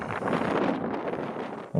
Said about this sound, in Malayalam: ഇവിടെ ഭയങ്കര കാറ്റാണ് കേട്ടോ